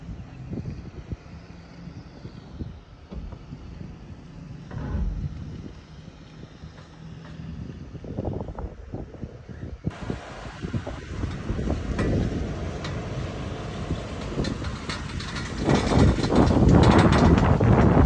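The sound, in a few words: Toyota 4Runner mechanical noise recorded to show mechanic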